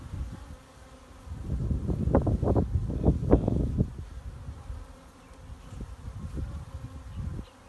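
Honeybees buzz around a hive in a steady low drone that swells louder in the middle and then eases off, with light wind noise behind.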